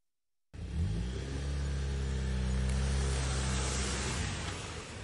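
A car engine starts and revs hard as the vehicle pulls away fast after a spare tyre change on the Pune–Nashik highway, a loud steady rumble rising in pitch and holding strong to the end, with no talk.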